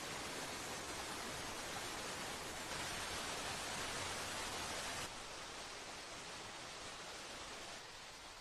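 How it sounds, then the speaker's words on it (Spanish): Waterfalls in a Croatian national park give off a dense, even rushing murmur, a constant broadband wash of falling water that stays steady throughout with no voices. "donde no se oye más que el murmullo de las cataratas"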